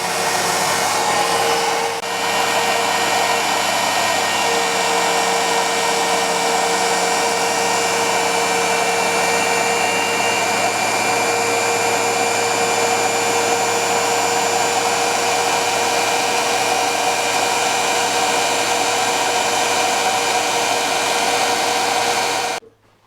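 A Wolf tool post grinder for a lathe runs steadily, its motor rated at 8,000 rpm driving the wheel at about 4,000, giving a loud, even whine with strong harmonic tones that stops abruptly at the end.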